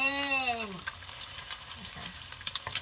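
An egg fries in a pan for stir-fried cucumber with a steady, close sizzle that runs the whole time, while a voice talks over the first second.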